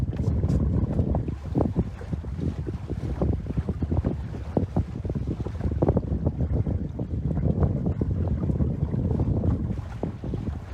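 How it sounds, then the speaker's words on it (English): Wind roars continuously past a sailboat under way on open water, with gusty, rumbling buffeting on the microphone and faint water splashing beneath. "Good wind coming the other way now."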